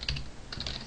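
Fingers typing code on a computer keyboard, a quick close cluster of several key clicks in under a second.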